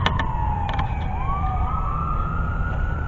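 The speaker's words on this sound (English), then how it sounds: "Did you all hear that siren?" At night near a cemetery, a siren wails faintly in the distance. Its tone slides and rises over a steady hiss of background noise, with a few soft clicks near the start.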